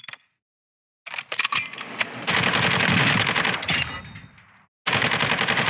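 Rapid bursts of automatic gunfire from a slow-firing rifle in the shooter game DMZ, loud and close, with dense rattling volleys broken by a short pause before another burst.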